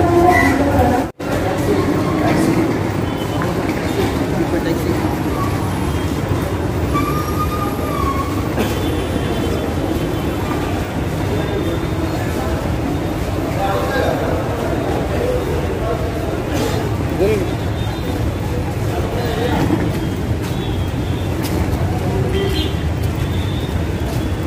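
Trains and a busy ambience fill Thiruvananthapuram railway station, a continuous low rumble of rail cars with occasional squeals and clatter, heard alongside voices throughout.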